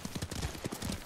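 Horse hooves clip-clop at a steady trot in the Ghost of Tsushima video game, a quick, evenly spaced run of muffled thuds close by.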